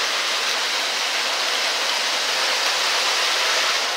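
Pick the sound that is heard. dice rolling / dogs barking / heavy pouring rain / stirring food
heavy pouring rain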